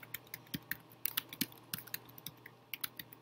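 Quiet, rapid tapping of keys on a computer keyboard, a short, irregular burst of clicks close by with no voices.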